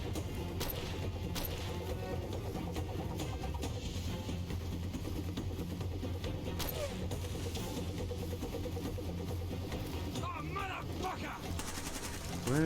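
Small arms gunfire in a civil war video game, scattered sharp shots and brief bursts mixed with engine and mechanical game noise at a steady level, with no speech.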